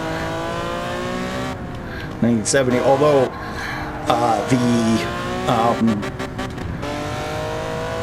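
A Porsche 917 race car engine in a racing video game drones steadily in the background, a continuous mid-level hum running under someone talking throughout.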